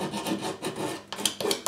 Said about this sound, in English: I'm just going to take this emery board here, instead of using sandpaper, and I'm just going to take off a little bit of the paint